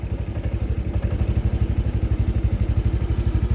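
A Honda PCX scooter engine running with a throttle fault, suspected TP sensor, pulsing in a fast even low throb that is close and loud, with a slight mechanical clatter and no voices.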